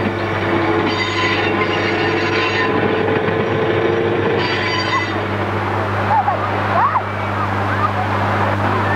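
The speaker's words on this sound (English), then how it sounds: "Special trains leave Cornwall regularly, carrying clay for the potteries and slurry for the paper manufacturers." A freight train hauls clay through Cornwall, a steady loud rumble of wagons rolling past with rhythmic wheel clatter and brief squeals, while a narrator speaks over it.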